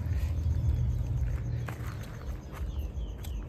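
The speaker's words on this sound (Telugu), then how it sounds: "అలా ఆటో పోతుంటే దాని సౌండ్ వస్తుంది కదా" An auto-rickshaw drives past a rural farm, a low, steady engine rumble with faint clattering that swells slightly and then holds, heard from a short distance.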